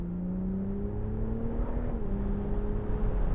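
A 2019 BMW Z4 M40i accelerates with a steady engine drone that rises smoothly in pitch, eases at one point as though changing gear, then climbs again from inside the car.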